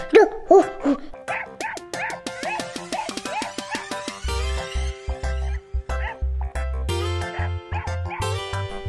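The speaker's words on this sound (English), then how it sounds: "Woof like a dog." Cartoonish dog barks, a quick run of woofs sung or voiced in a children's alphabet song, bounce out up front, then bright backing music with a steady bass beat takes over.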